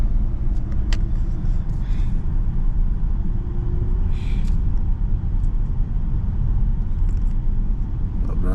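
Slow, crawling road traffic of cars and buses heard from inside a vehicle: a steady, loud low rumble of engines and tyres throughout, with faint hisses and clanks rising briefly over the drone and no talking.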